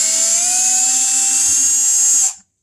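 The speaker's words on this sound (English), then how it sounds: "today, I've graduated to the drill." A power drill spins at high speed driving number 2 Phillips screws into boat seat upholstery, a loud continuous whine held steady close by before abruptly winding down and stopping.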